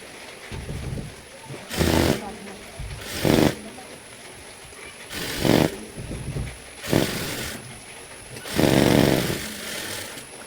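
Sewing machine stitching madras check cotton fabric for a kids' top, five loud whirring runs of a second or so each, separated by short pauses over a steady background hum.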